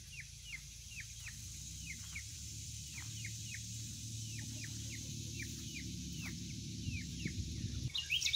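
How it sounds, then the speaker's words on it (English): Pair of lovebirds chirping on a swing, a steady run of short, repeated high chirps close by over a constant low hum, with a brief louder clatter right at the end. "Swinging back and forth, chirping happily, pumping back and forth to kind of make the swing go."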